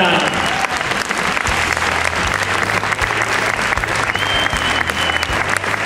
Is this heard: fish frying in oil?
no